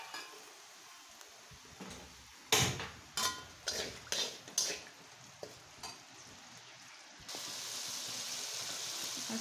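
Chopped onion drops into hot oil in a pan, starting with a soft hiss, then a run of sharp clattering stirs and splashes before settling into a steady, brighter sizzle; no one speaks.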